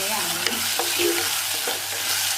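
Ingredients for clay pot biriyani sautéed in a pan, a short stretch of loud, even sizzling with a few spatula scrapes and stirs close by.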